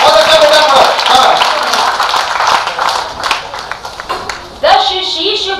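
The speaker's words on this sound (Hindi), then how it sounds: "एक बार तालियां बजाइए मिलकर प्रीति" Audience at a Hindi poetry recital (kavi sammelan) applauds for a performer, a dense, steady wash of clapping blended with voices, fading slightly midway before surging again near the end.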